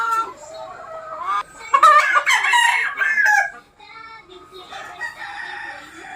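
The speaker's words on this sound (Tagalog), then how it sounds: "ito po yung broodcock na isa. Bali, Roundhead Kelso F1 sweater." A Roundhead Kelso F1 sweater broodcock rooster crows loudly in a long harmonic call, followed by softer clucking and fowl chatter nearby.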